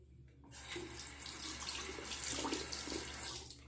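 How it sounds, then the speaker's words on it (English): Water from a tap runs steadily as a One Blade Core safety razor is wet under it before a shave, a close continuous splashing rush with no talk. "I'll wet the razor now"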